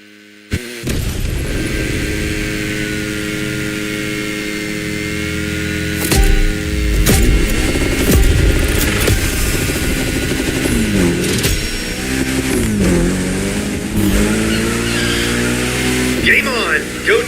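Lancer Evo X drifting in The Crew Motorfest racing game, a steady loud engine drone with surging revs and tire noise that swells around the middle, with a voice talking over it throughout.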